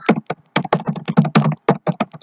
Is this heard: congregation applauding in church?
no